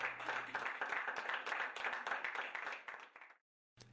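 Long, steady applause from an audience at a press conference in Parsberg, dense clapping that carries on for over three seconds, then cuts off abruptly into a brief silence before more clapping starts again.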